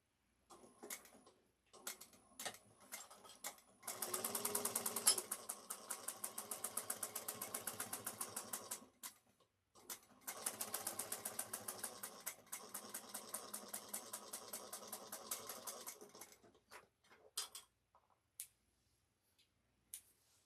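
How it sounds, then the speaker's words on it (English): A sewing machine top-stitches a bag seam in two sustained runs of rapid, even mechanical ticking, with brief starts and stops around them; close and moderately loud. "We're going to now top stitch this down 1/8 of an inch on this seam."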